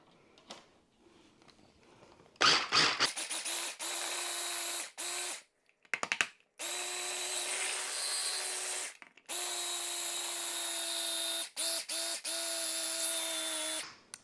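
A small food processor whirs through boiled egg mayonnaise in several loud, close bursts of high motor whine, separated by brief stops and pulses.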